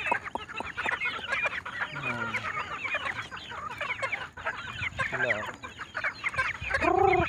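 Backyard farm chickens cluck busily at feeding time, a dense, continuous chorus of overlapping calls near and loud, with a brief louder squawk at the end.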